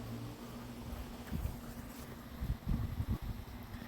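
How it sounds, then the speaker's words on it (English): Strong outdoor wind buffets the microphone in low, uneven rumbling gusts that swell and drop, loud and close, with no talking during these seconds. "So it's so windy right now."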